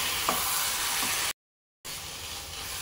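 Chicken curry with tomato being stirred and frying in a pan, a soft steady sizzle with a couple of faint spatula taps, briefly cut to silence midway.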